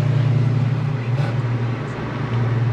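At the 2022 Turkey Run car show, a car engine idles with a choppy, lumpy low rumble that pulses unevenly throughout, close and fairly loud.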